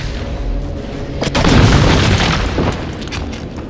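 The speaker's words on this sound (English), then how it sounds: "You'll soon acquire the gel launcher, which acts like the explosive gel foam from the previous Arkham games" An explosive gel pod from the gel launcher detonates in Batman: Arkham Origins Blackgate, a heavy rumbling boom swelling over an industrial background and rolling out over a couple of seconds.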